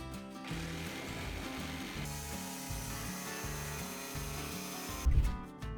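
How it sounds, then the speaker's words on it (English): A jigsaw cuts through a vinyl floor panel during a flooring install, its steady buzzing rasp running close and loud for several seconds with regular pulsing strokes, ending in a brief louder clatter. "The panel is cut with a jigsaw."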